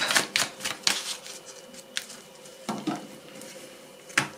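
A tarot deck is cut by hand, giving a few crisp, close card slaps and soft paper rustles with quiet gaps between them.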